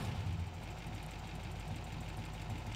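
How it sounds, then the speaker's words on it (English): A drivable car in Farming Simulator 17 idles in a garage with a worn engine and valve train tick, a steady close rattling churn like nails in the block, running continuously without pause. "We'll start it up and it sounds like a bag of nails are running through the engine block."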